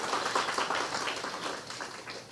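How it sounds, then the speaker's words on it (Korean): Congregation clapping for a student after a sung hymn at a live high-school Sunday worship service at a Korean church: a dense, moderately faint patter of many hands that tapers off toward the end, with no voices over it. "우리 귀한 찬양 나눠주신 우리 은교에게 박수 한번 더 부탁드리겠습니다"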